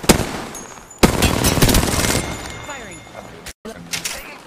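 Bursts of rapid automatic gunfire in a first-person shooter: a loud opening shot, then a dense stream of rounds, a short cutout, and a few scattered shots near the end, with game effects underneath.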